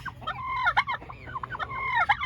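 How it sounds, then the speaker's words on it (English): Tom turkey gobbling repeatedly in a garden setting, loud rapid warbling gobbles in several bursts, close and clear with no talking. "These two tom turkeys, one has got to go."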